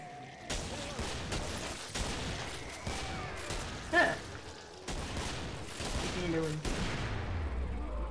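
Gunfire in the Killing Floor video game comes in a series of sharp bursts and volleys, moderately loud and evenly spaced, with one louder blast midway and a low rumbling tail near the end.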